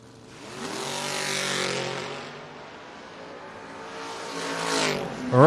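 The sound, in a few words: drag racing Camaro and Firebird launching down the strip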